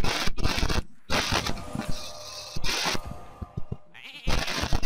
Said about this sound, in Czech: A je z ní ovečka